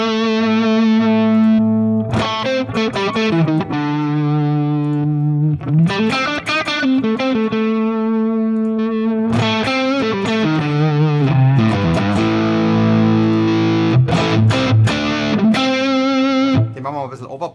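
Electric guitar played through a Suhr Riot distortion pedal placed before the amp in a live-sound setup, loud and saturated, with sustained chords and bursts of picked notes for about seventeen seconds, no talking.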